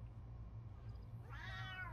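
A cat in The Sims 3 gives a single soft meow late in the clip over a low steady hum of game ambience.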